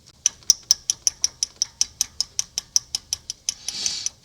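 A loose number 2 intake rocker arm on a 1971 Cadillac 472 engine is wiggled by hand, giving about fifteen crisp metallic clicks in a quick regular rhythm, followed by a brief rustle.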